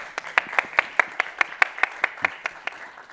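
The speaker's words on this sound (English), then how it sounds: "Round of applause for Daniel joining in" Crisp, evenly spaced claps ring out at a product management panel discussion as a panelist joins the stage, a steady rhythmic beat of about five claps per second, fairly close and moderately loud.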